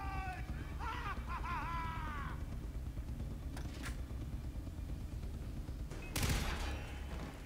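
Bursts of heavy gunfire from a powerful weapon in the shooter game Far Cry 3, a sustained rattling barrage with a louder blast near the end, mixed with game effects and a brief voice-like tone early on.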